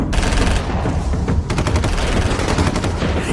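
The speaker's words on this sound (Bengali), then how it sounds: "নারী বাহিনীর সবকটা বন্দুক একসঙ্গে গর্জে উঠল" Rapid rifle fire from a line of women soldiers shooting together in a volley at charging Japanese troops, a dense crackling barrage of overlapping shots that keeps going with no pause.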